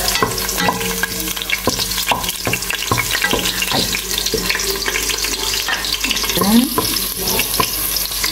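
Garlic frying in a pan for a home-cooked Christmas chicken dish, steady close sizzling with frequent spatula stirring and scraping clicks.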